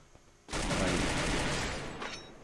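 A sustained burst of automatic rifle fire in the mobile shooter Free Fire, a dense, loud continuous rattle starting abruptly and running nearly two seconds before tapering off.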